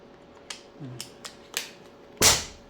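Several sharp clicks and snaps, then a louder puffy pop of a suppressed, regulated PCP air rifle shot, nearby and alone with no talking.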